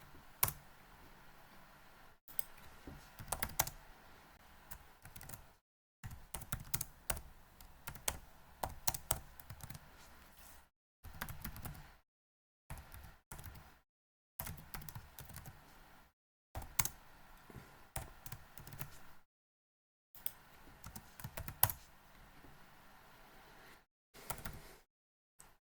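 Computer keyboard typing during a Spring Boot REST API coding session, bursts of rapid close key clicks separated by short silent pauses, alone without talk.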